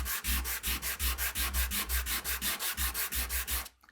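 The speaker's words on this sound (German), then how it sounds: "Jetzt nehme ich einen Teil von dem und schleife das einmal mit einem Schleifpapier." Rhythmic back-and-forth sanding strokes on wood with 180-grit sandpaper, about twenty steady rasping passes, close and loud, ending abruptly.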